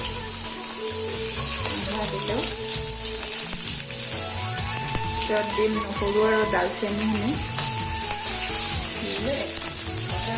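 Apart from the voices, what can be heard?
onions frying in oil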